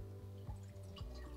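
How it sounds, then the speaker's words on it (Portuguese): Water poured into a saucepan on an unlit stove while making choux pastry for chocolate éclairs, a steady close liquid stream with a few brief drips and splashes. "eu coloco a água"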